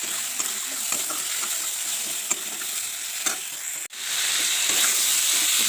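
Ground red chilli and coriander powder being stirred while frying in a pan, a steady close sizzle with scraping stirs and one brief dip in the middle; no talking.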